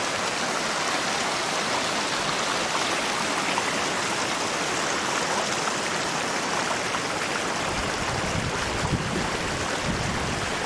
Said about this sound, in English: So if we want to have some rain, let's have some rain.